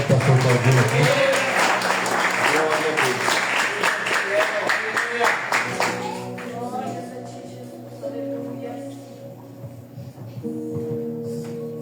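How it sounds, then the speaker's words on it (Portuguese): Church congregation applauding during an evening service: clapping and cheering for several seconds, mixed with voices and music, then fading under a sustained keyboard and talk. "Você pode aplaudir Jesus"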